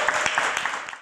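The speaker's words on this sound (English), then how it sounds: "Clap it up for Michelle." A small crowd applauds at a fitness-show recap, with a brief patter of clapping, fairly faint and thinning out within a second.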